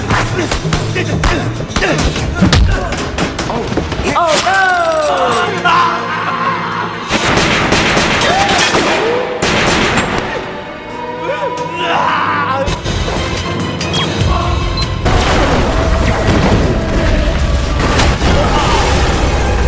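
Movie action scene of a policeman shooting in all directions, loud repeated gunshots and booming bangs layered over dramatic music, dense and chaotic, with voices mixed in.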